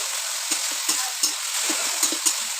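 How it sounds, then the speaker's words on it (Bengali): Colocasia (kochu) greens being stirred in a sizzling pan: a steady frying hiss with a string of soft, irregular scrapes and knocks from the stirring, close and moderately loud, with no talk. "তো একটু ভালো করে একটু ঘাটা নাড়া করব এটাকে।"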